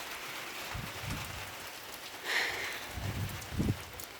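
Steady rain falls after two days of downpour outside a house doorway, a soft even hiss of drops with a few brief thumps and patters close by, fairly faint and without voices.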